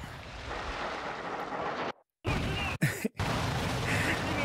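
Grenade explosion in Call of Duty: Modern Warfare II: dense, loud roaring noise is cut by two abrupt silent gaps before the blast noise resumes.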